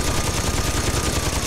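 Rapid, continuous gunfire crackles without pause in the video game Saints Row 2, a dense burst of shots filling the whole moment.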